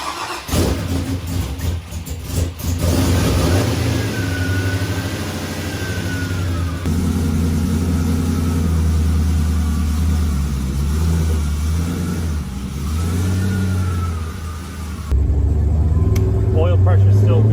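A 6.0 engine in a race build starts up and runs loud and steady near the microphone, rising into a heavier rev toward the end, with a voice talking faintly underneath.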